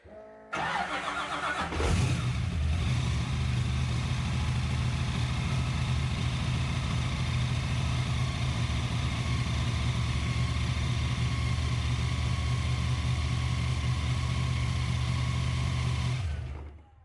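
A 598 big block Ford XA Falcon engine starts with a sharp burst, then idles with a deep, loud, steady rumble that holds for many seconds before cutting off.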